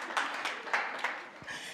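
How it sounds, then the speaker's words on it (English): Audience applause at a gala dinner, a burst of scattered hand clapping from a small crowd of guests for a woman named Sharon, fairly close and lasting under two seconds. "Kindly clap for Sharon"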